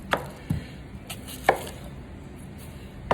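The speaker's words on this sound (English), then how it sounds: "you're gonna cut them up really small and get a ball." Knife chopping onions on a cutting board, a few separate sharp chops spread out with quiet gaps between them, fairly close and with no talking.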